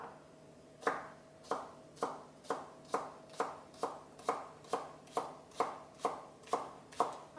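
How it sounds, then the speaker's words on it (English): Knife chopping spring onions on a board, a steady rhythm of about fifteen crisp, evenly spaced chops, close and clear with no talking. "Then I'm going to quickly chop up some spring onions."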